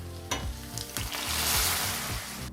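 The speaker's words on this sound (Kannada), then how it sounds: "ಈ ರೀತಿ ಎಲ್ಲ ಪದಾರ್ಥಗಳನ್ನು ಸೇರಿಸಿ ಒಂದು 30 ಸೆಕೆಂಡು ನಾವು ಈ ರೀತಿ ಫ್ರೈ ಮಾಡಿಕೊಂಡ್ರೆ ಸಾಕಾಗುತ್ತೆ" Curry leaves and spices frying in a rasam tempering, a close, dense sizzle with a few sharp pops and stirring knocks against the pan, with no voices.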